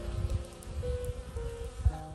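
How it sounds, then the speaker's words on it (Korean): Honeybees swarm around a natural pond, their steady, close buzzing droning throughout with wingbeat tones shifting as individual bees move nearby. "와, 벌 소리가"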